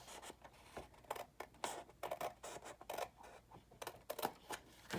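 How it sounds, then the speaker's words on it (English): Scissors trim a small sliver of paper for a Valentine's mini album craft project, giving a quiet series of short snips and scratchy paper cuts in irregular bursts, fairly close and soft. "So I'm just coming on the other side of that bump to trim out a little sliver."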